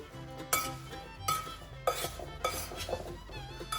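Rhubarb pieces being mixed with fine sugar in a dish, with repeated clinks and scrapes of a utensil against the dish in uneven bursts, close and clear.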